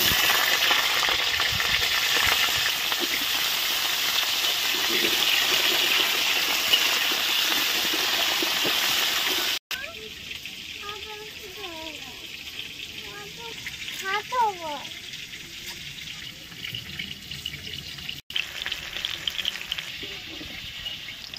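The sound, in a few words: potatoes frying in oil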